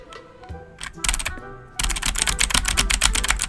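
Typing on a heavy, fully mechanical computer keyboard: sparse keystrokes at first, then a dense, loud burst of rapid clacking keys, close up and with no talk.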